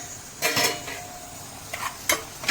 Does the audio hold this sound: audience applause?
no